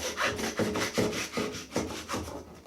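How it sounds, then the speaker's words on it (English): A butcher's saw cutting straight through a pig shoulder and nipping the blade bone, a steady back-and-forth rasp of about five close, even strokes with no talk. "Now, you really need a butcher's saw"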